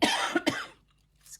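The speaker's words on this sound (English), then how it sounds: "I don't know why I'm coughing all of a sudden" A single short cough bursts out close to the microphone in a quiet indoor crafting space, a couple of quick rough hacks followed by near silence.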